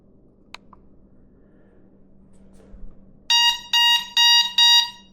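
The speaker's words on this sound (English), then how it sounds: "Pretty loud horn." Horn of a Mooncool TK1 electric trike sounding four loud, sharp electronic beeps in quick succession, close and piercing, after a quiet stretch of faint background hum.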